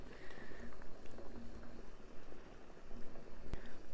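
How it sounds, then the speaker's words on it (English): Water simmers in a pot under a bowl where butter and chocolate melt, giving a soft, continuous bubbling patter with small pops and a few faint clinks, close by and with no talk. "The water's come to a nice little simmer."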